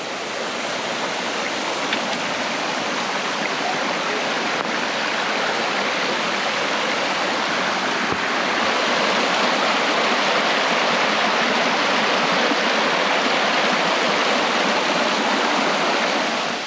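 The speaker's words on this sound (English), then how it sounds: "So apparently they turn on the water here in the Provo Rock Canyon." Steady, full-bodied rush of water flowing down Rock Canyon in Provo, Utah, a continuous broadband roar of stream current that holds constant throughout with no voices.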